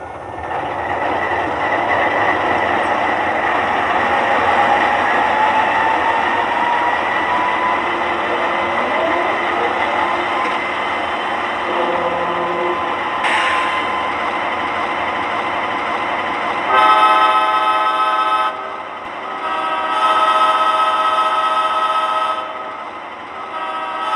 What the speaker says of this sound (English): let's do a sound comparison between the Atlas ES44 and a modern Lionel ES44